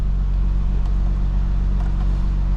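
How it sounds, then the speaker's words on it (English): A Porsche 987.1 Cayman S sits idling just under 1000 RPM, a steady, loud, low engine hum that stays even and close throughout with no one talking. "So we've got the car started and idling there as it should, just a touch under 1000 RPM."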